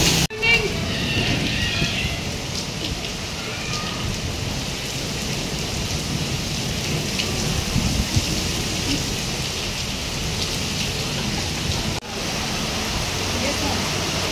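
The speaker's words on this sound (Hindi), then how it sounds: "इतनी तेज़ बारिश हो रही है" Heavy rain pours steadily and loudly throughout, a dense continuous roar of drops with a brief dropout near the end; a voice talks faintly underneath.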